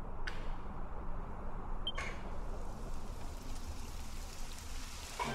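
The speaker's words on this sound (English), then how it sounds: "It would have to go and start raining, wouldn't it?" Rain begins falling in the video game Dragon Quest XI, a steady hiss of rainfall with a couple of sharp clicks near the start, continuous and even throughout.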